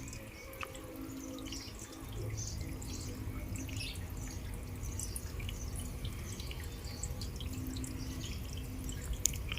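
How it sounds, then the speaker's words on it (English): A garden fountain trickles and drips steadily, with faint scattered splashes over a low background hum. "can you hear the water trickling in the background?"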